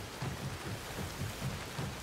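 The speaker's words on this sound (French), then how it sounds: "il pleut toujours autant dans notre base" Steady rain with low rolling thunder in the survival video game Soulmask, a continuous dense wash of rainfall with repeated deep rumbles pulsing underneath, no voices.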